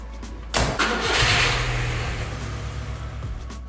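A car engine turns over and catches before an oil change, then settles into a steady idle while it warms up, with the loud start fading to a low, even running hum.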